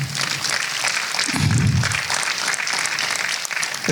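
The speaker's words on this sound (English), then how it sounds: "ladies and gentlemen, please, a round of applause for my elegant panel" An audience at a business expo panel discussion breaks into steady applause for the panelists, a continuous dense clatter of clapping with a short low murmur partway through.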